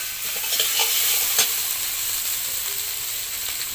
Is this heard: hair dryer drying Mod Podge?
no